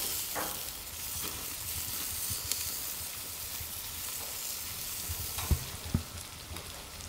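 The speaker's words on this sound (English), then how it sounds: "you can actually see the juices from the inside sizzling up" Meat frying in a pan: steady sizzle with a constant hiss, broken by a few sharp pops and crackles near the end.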